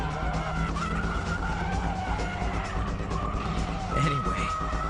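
A car drifts with tires squealing and skidding under a continuous engine drone, with a sharper squeal burst near the end; a voice talks over it.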